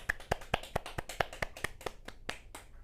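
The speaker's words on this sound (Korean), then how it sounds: "박수" Hands clap in a quick, even rhythm in a gifted-school classroom during an analytical-instruments lesson, roughly a dozen sharp, close claps that thin out and soften toward the end.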